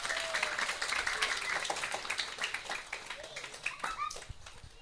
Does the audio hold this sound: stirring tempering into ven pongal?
no